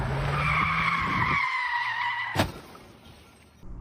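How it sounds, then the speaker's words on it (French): A pick-up truck's tires skid in a long screech on the road, then a sharp crash of impact as it hits another car, followed by quieter road noise. "Pressé de doubler, il touche le véhicule avec l'arrière du pick-up."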